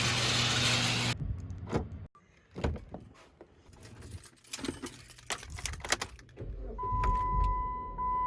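Someone gets into a car before driving off: a door thuds shut, keys jangle and a window motor whirs, with a few rustles and handling bumps between them, then a brief electronic tone near the end. Close by, with no talk.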